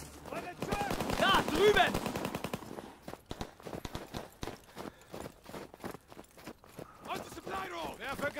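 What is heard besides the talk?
gunfire in the video game Call of Duty WWII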